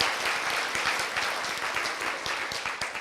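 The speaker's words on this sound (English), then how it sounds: "Let's give her a big, big round of applause" A breakfast audience at a Martin Luther King Jr. Unity event gives a big round of applause, thick continuous clapping with individual sharp claps standing out, sustained and fairly close.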